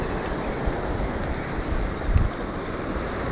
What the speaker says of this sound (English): But that's probably just that wind which just come through.